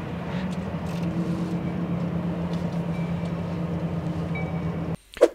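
A steady low rumble of a passing train holds for several seconds, then cuts off abruptly, followed by a short bump.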